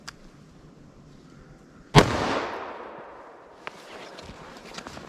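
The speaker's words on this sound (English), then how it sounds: "let's see what we get here with our 357 Magnum through our real world simulation" A single sharp, loud gunshot from a short-barrel .357 Magnum revolver fired into a ballistic test medium, with a long decaying echo afterward and faint shuffling noises.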